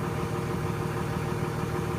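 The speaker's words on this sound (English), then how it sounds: "So there you can hear the brake come on" A big rig truck engine idles steadily and close by, with the air brake engaging over a constant low mechanical rumble and vibration, no talk.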